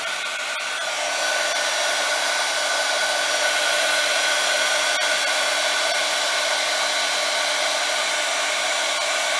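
A heat tool blowing hot air onto embossing powder, a loud continuous close whooshing hum that holds steady throughout with no talk.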